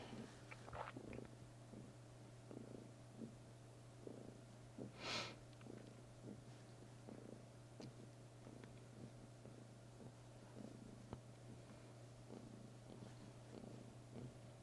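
A cat purrs softly and steadily during belly rubs, heard from a short distance over low background hum, with a brief louder snort or rustle partway through.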